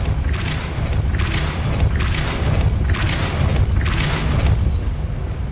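Spell blasts from the Confringo and Depulso spells in Hogwarts Legacy: four booming, crackling bursts at a steady rhythm over a constant low rumble, loud and close, with no talking.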